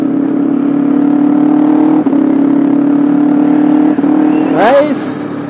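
A loud Honda CBR250RR motorcycle engine with a quickshifter idles steadily up close, then revs briefly near the end with a rising, rasping note.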